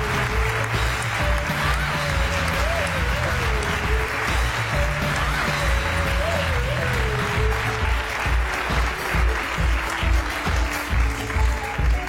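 Conference audience applauding the winning team at an entrepreneurs' summit, a dense, steady roar of many hands clapping that holds for the whole stretch, with a faint voice or tone drifting underneath.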